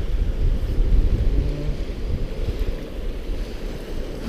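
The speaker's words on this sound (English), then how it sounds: "the waves, you see?" Ocean waves wash continuously on the Belgian coast at Knokke-Heist, a broad steady roar of surf mixed with wind buffeting the microphone, with no talking.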